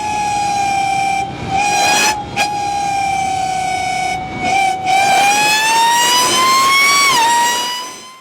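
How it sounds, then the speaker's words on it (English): A car's supercharger whines loudly and alone, a steady high tonal wail with harmonics that dips briefly, then climbs in pitch as the engine revs before falling away near the end. "there is just one component in a car that is responsible for making that beautiful whiny sound we all love"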